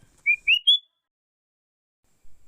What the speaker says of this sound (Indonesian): Kalau kita mendengar suara burung kutilang biasa